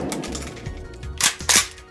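Zastava O-PAP rifle at an outdoor range firing a shot, a sharp loud crack followed quickly by a second burst amid light handling clatter, with no talking.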